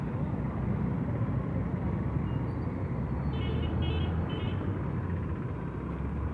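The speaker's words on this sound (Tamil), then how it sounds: "Traffic heavy traffic." Heavy road traffic rumbles in a steady, continuous wash of engine noise, with a brief faint horn toot partway through and no talking.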